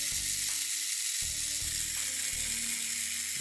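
A vintage 1980s Schaper Stomper toy jeep with police lights runs its small motor at low speed, giving a steady whirring buzz with a faint hiss and a few soft clicks.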